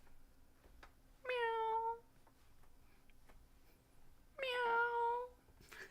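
A cat meow sound effect plays twice during a livestream, two clear separate meows about three seconds apart over a quiet background.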